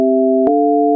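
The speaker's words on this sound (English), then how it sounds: "Oscillator number one is going to be a sine wave, and then that's going to give us that really soft sound." A soft sine wave synth pad from the Vital synthesizer: a steady, pure sustained chord of a few clean tones that shifts slightly in pitch midway, with a faint click at the change.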